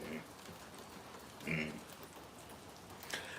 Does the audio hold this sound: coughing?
no